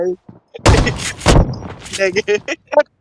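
Gunfire in a PUBG Mobile 3v3 match: a few loud, close bursts of shots with sharp attacks, mixed with someone talking excitedly in between.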